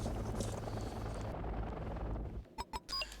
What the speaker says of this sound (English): this is a transport chopper